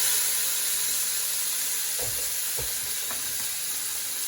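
Meat for chilli con carne sears in a hot pan with a loud, continuous sizzle and hiss, with a few soft knocks as pieces are moved with tongs.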